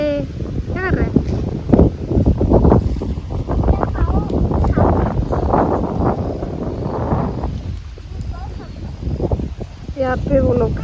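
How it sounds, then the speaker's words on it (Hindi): Strong wind gusts roar and buffet the microphone outdoors among trees, rising and falling in loud surges while a person talks intermittently over the rushing noise. "बहुत हवा चल रही है"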